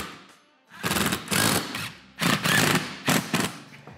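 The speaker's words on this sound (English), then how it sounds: "you're gonna reach through with your 7/16 box end wrench and a 3/8 ratchet on the outside" Hand tools tightening bolts while installing a Kawasaki Mule glass folding windshield: a 3/8 ratchet clicks in three close, loud bursts, with a box end wrench on the other side.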